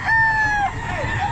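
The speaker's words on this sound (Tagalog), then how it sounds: "maraming manok" A rooster crows once, loud and close, with a long drawn-out call at a busy pet market. Faint background noise runs underneath.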